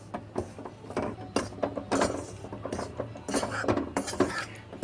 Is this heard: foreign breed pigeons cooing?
no